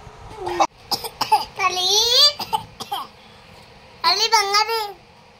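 A young child makes short vocal bursts and a quick cough-like sound, with playful babbling and squeals between them, close by.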